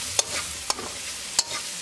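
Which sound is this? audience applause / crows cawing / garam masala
garam masala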